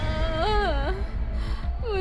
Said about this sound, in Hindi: तभी उन्हें किसी के रोने की आवाज सुनाई देती है।